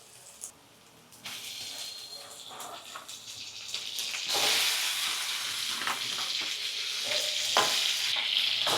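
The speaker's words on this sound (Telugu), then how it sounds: "ఈ స్టేజ్లో ఇప్పుడు మనం చికెన్ వేసేసేయాలి." Raw chicken hits a pan of frying ginger garlic paste, setting off a loud, steady sizzle and hiss that builds and holds, broken by the scrape and clatter of stirring up close.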